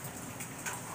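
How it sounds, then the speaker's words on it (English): Steady rain falls, a soft continuous hiss of drops on surfaces at moderate level, with no voices. "perfect timing because it's raining. I like the rain."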